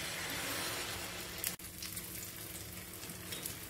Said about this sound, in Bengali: বন্ধুরা, তাওয়াতে তেল নিয়ে নিয়েছি ডিমটা ভাজবো বলে।